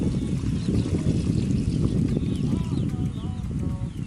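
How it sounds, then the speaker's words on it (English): Water poured into a cooking pot at an outdoor off-grid camp cook on a Jamaican farm, a close splashing gush that runs continuously, with faint voices in the background. "Put some more water for it"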